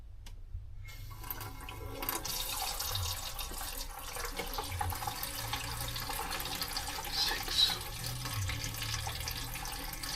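Water runs steadily from a tap fed by a 4.5 kW tankless electric water heater, after a brief silent start, a constant hiss and splash at moderate volume with no voices.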